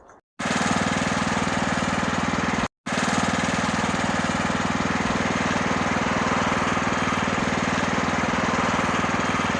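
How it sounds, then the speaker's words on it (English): A free Craftsman riding lawnmower, modified into a mini bush hog, runs with a loud, steady, rattling engine drone close by, broken by two brief cutouts near the start. "Craftsman riding lawnmower that I got for free, that I modified into a mini bush hog"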